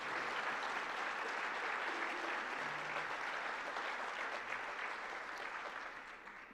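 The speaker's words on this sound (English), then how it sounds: "Will you please join me in offering them a round of applause?" A crowd applauds steadily and fairly loudly, the clapping holding even before slowly tapering off at the end.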